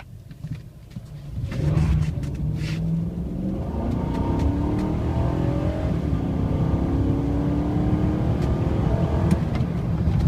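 A 2011 Nissan Titan Pro-4X pickup accelerating from a standstill, engine note climbing steadily through the gears into a loud sustained rising roar, close and alone.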